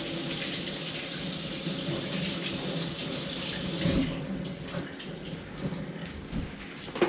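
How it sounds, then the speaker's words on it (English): Green pawpaw (unripe papaya) rinsed under a running kitchen tap, a steady broadband water rush that holds throughout, with brief splashes and shifts as the fruit moves in the stream. "I'll give that a hit under the tap."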